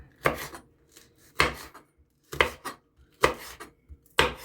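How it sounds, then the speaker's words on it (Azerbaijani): Hot chili peppers being chopped with a knife on a board, five sharp, evenly spaced chops with brief quiet gaps between them, close and loud with no talking. "Sonra isə acı biberləri doğrayıram"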